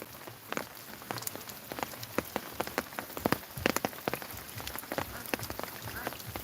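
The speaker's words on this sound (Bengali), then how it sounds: "অনেক বৃষ্টি" Heavy rain falls in Bangladesh, a dense, steady patter on surfaces with frequent sharp close drops standing out over the continuous wash.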